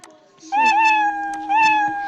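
Cartoon-style cat meow sound effect triggered in a Scratch coding project, two clear, loud meows with rising-falling pitch, about a second apart, with no talking.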